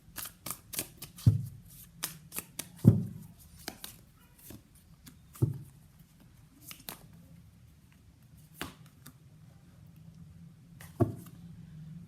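Tarot cards are shuffled and handled close up in a quiet room, a series of crisp riffling flicks and sharp taps at irregular intervals with soft rustling between them.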